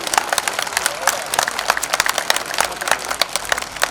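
Two-handed clapping from an audience at a religious festival gathering, a steady dense patter of many hands filling the whole stretch, with a voice speaking faintly underneath.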